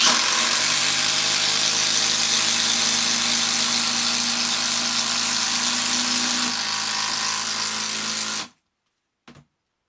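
Impact driver, the TD172D or DTD172, driving a long galvanized batten screw: a loud continuous hammering whine that shifts slightly midway, then stops abruptly, followed by a short click.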